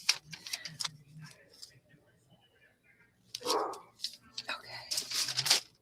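A dog barks once or twice in the background during a gel printing session, a short muffled burst amid a person talking and the tapping and clatter of work at a table.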